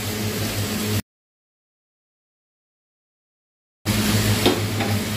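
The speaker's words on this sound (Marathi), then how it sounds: "छान हलवून घ्यायचं" Spinach with chili powder being stirred in a pan: a steady scraping, sizzling hiss that cuts out completely for a few seconds, then returns just as steady.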